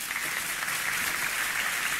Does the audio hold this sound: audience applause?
yes